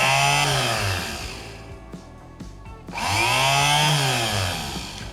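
A motorcycle starter motor spins briefly on a bench during a battery test, whirring loud and close in two short bursts separated by a quieter gap.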